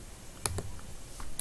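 A computer mouse gives a few faint, sharp clicks, two close together and then a couple more spaced apart, in a quiet room with no talking.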